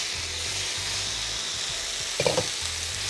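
Chicken masala chop frying in hot oil, a steady soft sizzle that runs throughout, close and moderately loud, with a brief clatter of stirring near the end.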